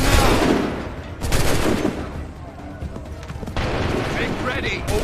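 Volleys of musket-style gunfire in Assassin's Creed III, sharp bursts of shots cracking out in two clusters amid battlefield din, with shouted voices over the noise.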